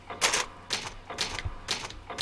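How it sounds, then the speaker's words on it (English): An old typewriter save sound in a video game: about five quick bursts of crisp mechanical clacking, evenly spaced and close. "This is an old typewriter."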